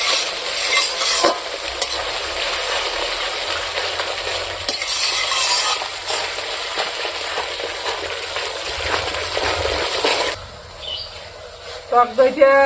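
Sour yogurt goes into sizzling rohu fish kalia and is stirred through, giving a steady hiss of frying with scraping stirs that drops quieter near the end, where brief clinks follow.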